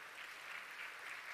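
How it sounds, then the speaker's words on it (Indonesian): Audience applause at an evening event honouring an orchestra of Islamic boarding school students, a steady dense clapping from a crowd that fills the short stretch with no voices over it. "Kita tepuk tangan untuk"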